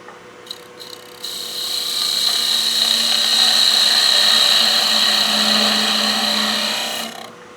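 A wood lathe spins up to speed as a tool cleans up the surface of a snowman oil candle, a steady high whine and rushing hiss swelling and holding for several seconds before easing off.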